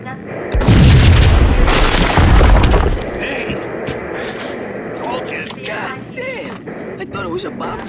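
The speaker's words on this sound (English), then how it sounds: "I thought it was a bomb for sure" A heavy explosion in the 2001 PC game Max Payne, a deep booming blast that rolls for a couple of seconds and then falls away into quieter crackling debris and scattered clatter.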